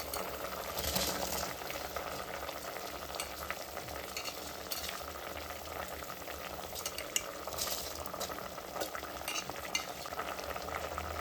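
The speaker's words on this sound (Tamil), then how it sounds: "இப்போ இந்த அளவுக்கு நல்லா கொதி வந்துருச்சுங்க" Water for tomato rice comes to a boil in a pot, giving a quiet, steady bubbling and gentle sizzle that continues without pause.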